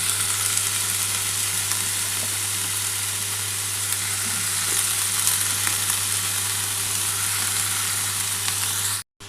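Banana stem (thor) frying in a pan, a steady, close, loud sizzle with a constant low hum beneath, continuing evenly before cutting off at the end.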